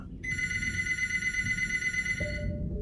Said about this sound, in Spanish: el teléfono empezó a sonar en la sala.